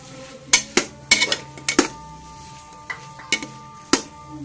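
Cauliflower and potatoes for aloo gobi being mixed in a metal cooking pot, with repeated sharp clanks and scrapes of a spoon against the pot over a low background hum, close and fairly loud.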